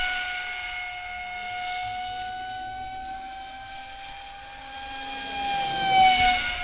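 Small 2212 electric motor and propeller on an RC F-22 model jet at full throttle, a steady high whine with strong tonal harmonics that holds throughout and swells slightly near the end.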